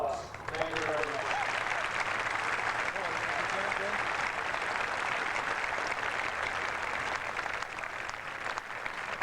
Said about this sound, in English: Please join me in honoring these men with a warm round of applause